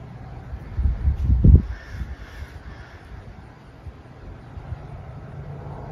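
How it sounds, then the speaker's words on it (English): Crows caw outdoors, a brief cluster of harsh calls early on that fades into quiet background ambience, with no voices. "I love the birds."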